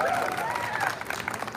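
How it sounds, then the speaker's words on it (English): A crowd at an outdoor girls' rally at a state capitol breaks into applause with some cheering, a brief burst of dense clapping and voices. "Can we give her a round of applause?"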